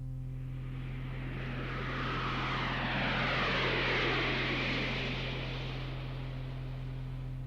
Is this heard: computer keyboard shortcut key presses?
no